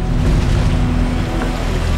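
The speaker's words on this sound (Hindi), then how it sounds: "ये जम्मू कश्मीर की रावी नदी की लहरें हैं।" Loud, churning rush of the flooding Ravi river in Jammu and Kashmir during torrential rain, a dense continuous roar of waves and turbulent water filling the whole clip with no pauses.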